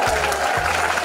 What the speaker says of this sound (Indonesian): buah berangan, buah kedondong, tepuk tangan dong.